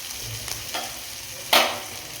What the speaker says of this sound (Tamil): தக்காளி கொஞ்சம் வதங்குற வரைக்கும் நல்லா கிண்டிக்கலாம்